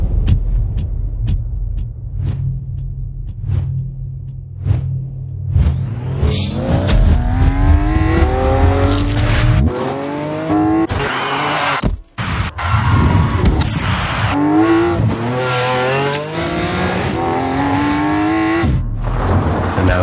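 A fast car, among the fastest in the world, accelerates hard at full throttle. The engine revs climb in rising sweeps, loud and close, after a low rumble at the start, with brief gear-change dips.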